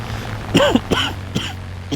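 A few short coughs or throat-clearing bursts spaced across two seconds, fairly close, over a steady low background hum.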